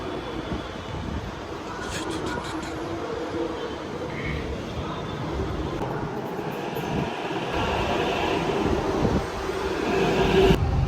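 Metro train in Hyderabad heard from the station area, a continuous low rumble and rolling rail noise that slowly grows louder toward the end, with faint voices in the background.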